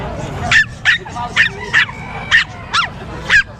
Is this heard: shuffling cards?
no